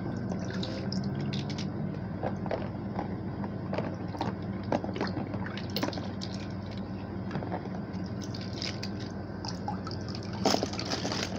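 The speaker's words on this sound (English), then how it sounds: "if you hear water, that is me, that I'm picking the trains up out of the pool" Water sloshing and splashing in a small toy pool as toy trains are lifted out, with steady liquid movement and scattered drips and knocks throughout, fairly close.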